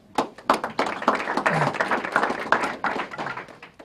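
Press conference audience applauding, a dense, steady wash of hand claps that rises quickly and continues evenly throughout, fairly close, with no talk over it.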